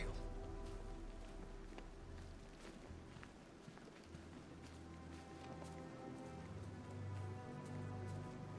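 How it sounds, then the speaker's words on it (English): Steady rain hisses over the city streets in Batman: Arkham Knight, a constant wash of falling water with faint low rumbles beneath it and no voices. "What's with all the rain?"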